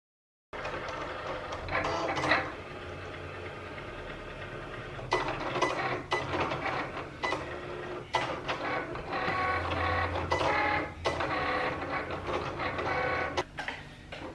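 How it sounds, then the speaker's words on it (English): A Cricut cutting machine slices iron-on material for personalized Valentine stuffed animals, giving a steady mechanical whir and motor hum with repeated clicking carriage movements that run for about fourteen seconds, close and fairly loud. "we're just going to load the Cricut mat"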